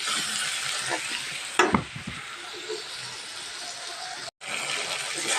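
Green chillies frying in hot oil in a pan for a dried-fish curry with potato and vegetable stems, a steady sizzle broken by a few sharp scraping stirs and a brief cut to silence.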